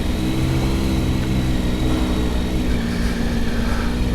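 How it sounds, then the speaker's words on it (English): A car engine on a road trip runs with its revs held up at a steady drone, a continuous hum alongside road and wind noise, close and fairly loud, with no talking. "I'm keeping the revs up like someone's advised me to"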